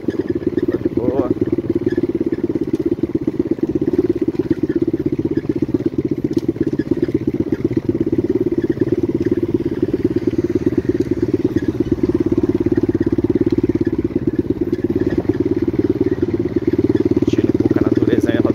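A mini Honda CRF trail dirt bike engine runs continuously nearby outdoors, a steady buzzing putter with a slight rattle that holds at an even level throughout.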